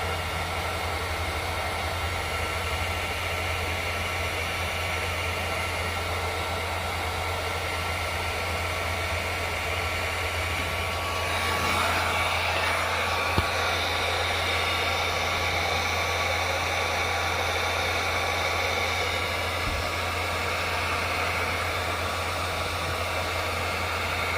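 Heat gun shrinking heat shrink tubing over a wiring connector while wiring an electric locker on a 1999 Jeep Wrangler TJ, a steady loud blowing hiss that runs without pause, with a couple of faint knocks.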